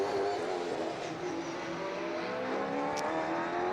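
A BMW M3 V8 race car heads out on track at a GT race event, its engine a faint, steady drone with rising tonal harmonics, heard at a distance without any talk.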